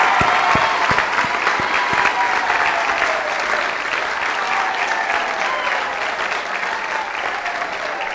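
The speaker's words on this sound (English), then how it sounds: "So let's give our students one last big round of applause" A large audience claps steadily at an evening event honoring students, a full, even round of applause that stays loud and sustained, with a few sharp low thumps near the start.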